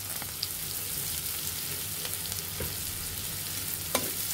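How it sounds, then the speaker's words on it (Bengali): Black cumin (nigella) seeds sizzle steadily in hot oil for a shrimp and Malabar spinach curry, a dense close crackle with a few sharper pops, no talking. "এখন 1 চিমটে পরিমাণের মতো কালো জিরে দিয়ে দিব।"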